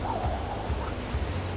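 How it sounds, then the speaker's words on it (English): Ocean waves wash in over coastal rocks with mossy surfaces and a small tidal pool at Point Mugu, a soft, steady rushing surf with a low rumble and gentle swells, alone and moderately quiet. "And the waves coming in on them."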